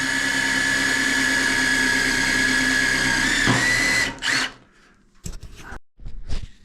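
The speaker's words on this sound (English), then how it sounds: "I want to drill this out." A power drill with a brand-new bit bores out a fender screw on a restoration car, a loud steady high whine for about four seconds that bogs and cuts off, followed by a few short bursts.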